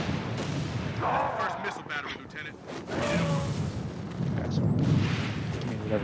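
A flak turret firing in the video game Halo: Reach: a steady run of heavy, booming shots and blasts that carries on loudly throughout.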